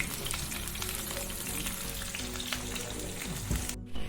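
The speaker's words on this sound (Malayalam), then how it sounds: "ഇത് ഈ മുഴുവൻ ഇങ്ങനെ പൊരിച്ചെടുക്കട്ടെ" Fish sizzles and crackles steadily in hot coconut oil while frying for fish biryani, with a dense, continuous spatter, close and fairly loud, and a brief clatter near the end.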